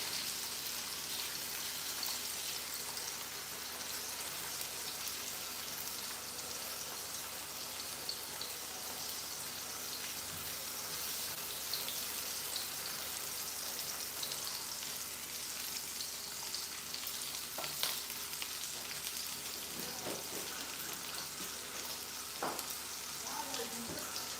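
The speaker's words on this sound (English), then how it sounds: "Bacon doesn't cook for long, so make sure you don't burn it." Bacon frying in a pan gives a steady, even sizzle with crackling pops throughout, constant and fairly close, with faint scattered clinks and no clear talk.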